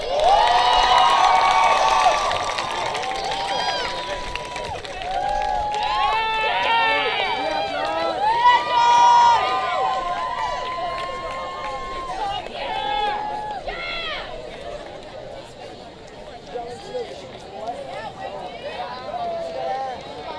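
Crowd at the Mel High class of 2019 graduation cheers, whoops and shouts, with scattered applause mixed in; the noise is loud at first and fades over twenty seconds.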